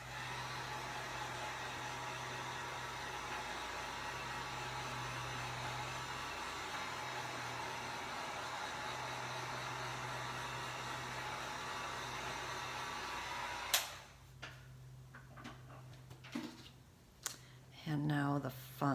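A hair dryer blows over freshly inked sketch paper, a steady, close whooshing hum for about fourteen seconds before switching off abruptly, followed by quiet handling clicks and rustles.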